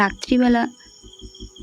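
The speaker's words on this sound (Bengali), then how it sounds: "তো সেই ঝিঝি পোকার ওই ঝিঝি ঝিঝি একটা আওয়াজ রেকর্ড হয়ে গেছে" A voice speaks briefly, then crickets chirp in a steady pulsing rhythm, evenly spaced bursts continuing close by.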